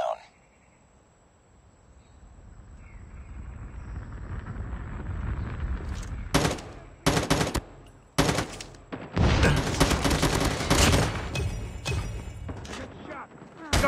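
Call of Duty Mobile gunfire in a Hardpoint match: quiet at first with a faint background hum, then sharp bursts of automatic fire and single shots crack out in rapid clusters during the second half.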